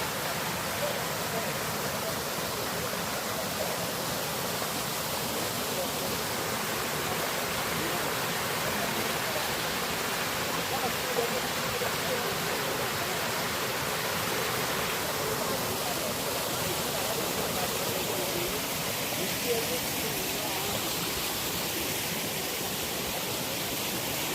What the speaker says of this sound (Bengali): কৃষ্টি ওয়াটারফল